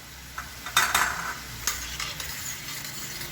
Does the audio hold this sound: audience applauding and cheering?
no